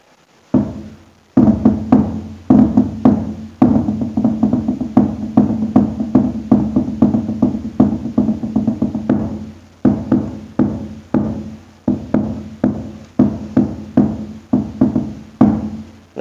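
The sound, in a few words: hadroh frame drum set bass sound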